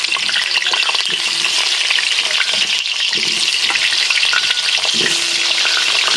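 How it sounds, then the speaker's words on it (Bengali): Potatoes fry in hot refined oil in a kadai, giving a loud, steady, close sizzle throughout with occasional stirring clinks and crackles and no talking. "তেল গরম হয়ে গেছে, এবার আমি আলুগুলো ছেড়ে দেবো।"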